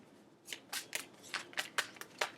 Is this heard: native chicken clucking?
no